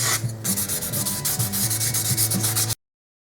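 Wooden knife handle being sanded by hand with sandpaper, a steady rhythmic back-and-forth rasp of close, repeated strokes, alone with no talk, ending abruptly.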